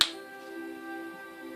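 A single sharp finger snap sounds at the start, close and crisp, followed by a sustained musical tone ringing on.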